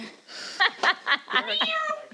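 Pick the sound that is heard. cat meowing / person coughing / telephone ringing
cat meowing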